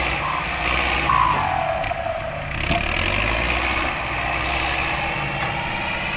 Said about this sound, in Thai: วันนี้ไฮไลท์อยู่ที่รถไถครับ